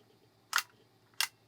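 A Holga 120 CFN camera shutter clicks twice, two short, crisp mechanical snaps about two-thirds of a second apart, close up in a quiet room.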